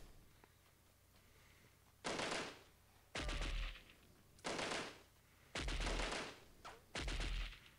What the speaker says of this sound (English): Follow the sound of gunfire.